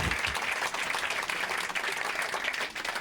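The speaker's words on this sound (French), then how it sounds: "commencez par vous applaudir s'il vous plaît" An audience at a live comedy show in Marseille applauds steadily, a dense continuous wash of many hands clapping throughout.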